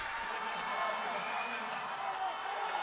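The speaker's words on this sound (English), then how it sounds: "Lots of cheering, lots of noise happening for these teams." Crowd noise at a Scottish national age group swimming championship finals session, a steady wash of cheering and shouting in a large reverberant pool hall, continuous and moderately loud throughout.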